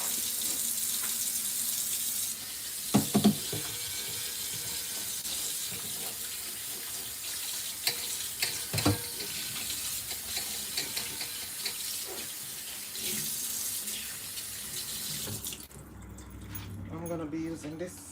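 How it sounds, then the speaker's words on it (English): Tap water runs steadily into a sink while vegetables are rinsed for a stir fry, with brief clatters and knocks, then the flow stops near the end. "so let me rinse."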